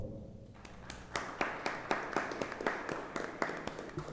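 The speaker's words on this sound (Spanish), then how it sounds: "para cerrar esta parte, un fuerte aplauso a nuestros invitados, por favor" A small audience at a youth forum on political communication gives its guests faint, scattered applause. Distinct individual claps come in a loose rhythm, quiet and somewhat distant.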